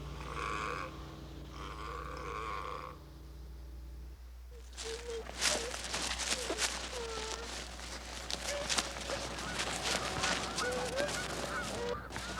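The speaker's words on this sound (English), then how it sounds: "We're looking at the geese." Migrating geese honk on a pond, with many overlapping calls near and farther off that start after a few seconds of other sound.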